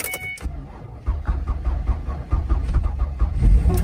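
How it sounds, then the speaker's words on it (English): An old Ford Escape cranks in extreme cold: a brief click, then a labored, uneven rumbling churn that builds and catches toward the end, close and moderately loud. "See how the old Ford Escape starts up."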